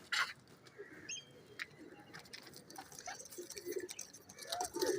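Teddy pigeons coo softly in a loft, with low repeated coos and scattered chirps among rustling and background noise, moderately close, and faint human voices now and then.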